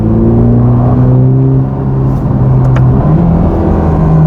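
A Ferrari Roma engine runs loud and steady with a deep, sustained growl, pitch shifting slightly as it revs, alone without any voices.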